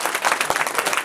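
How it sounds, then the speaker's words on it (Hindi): An audience at a kavi sammelan poetry gathering claps in a lively, dense burst of applause, close and continuous. "एक बार ताली बजनी चाहिए राम जी के नाम पर"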